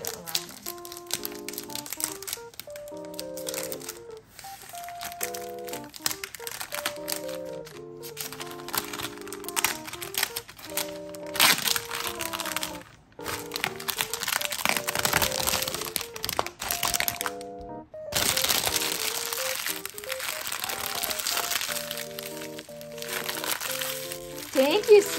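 Plastic packaging on a felt robots craft kit is peeled open around its edges, giving sustained crinkling and crackling close by, with people talking over much of it.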